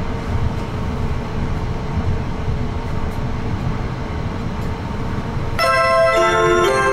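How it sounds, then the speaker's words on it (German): An ÜSTRA light rail train sits at its terminus stop at Sarstedt, with a steady low rumble and hiss of running equipment throughout, then a loud multi-tone chime or bell sounding near the end. "Meine Damen und Herren, dieser Zug endet hier."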